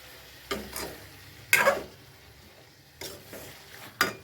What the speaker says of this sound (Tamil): இதெல்லாம் சேர்ந்து நல்லா கிண்டுறோம்